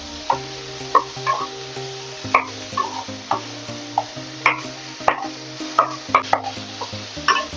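Boiled potatoes stir-fry in a hot pan, a spoon scraping and clinking in irregular bursts over a steady low sizzle, close and fairly loud, with no voices.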